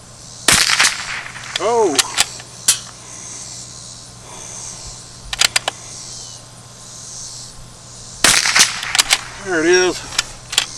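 Bergara B-14R bolt-action rifle with an Elfman Tactical trigger, bolt slung back and forth while picking up and ejecting rounds; sharp metallic clacks and impacts come in bursts, with someone talking between them.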